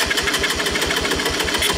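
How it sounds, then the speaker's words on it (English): A Honda ATC200E trike engine, primed with fuel down the carburettor, running with a rapid, steady loud chugging beat close by, no voices over it. "So I'm going to start it, and I've just squirted some fuel down the carby."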